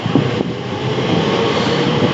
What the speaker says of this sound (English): that's the Heathrow Express service to London Paddington from Heathrow Terminal 5